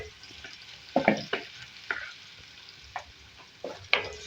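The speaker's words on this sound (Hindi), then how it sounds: "अब साथ में ये जो लौकी है ये डाल देंगे।" Chopped garlic, green chili and bottle gourd fry in an oiled pan with a steady soft sizzle, broken by several sharp spoon-stirring scrapes and clatters; no one speaks.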